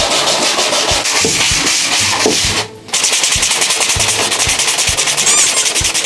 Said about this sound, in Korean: 사포 사포